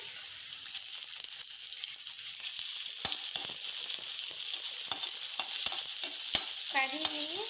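Onions fry with cumin seeds in hot oil, a strong even sizzle with sharp crackles and a few stirring scrapes, close and continuous.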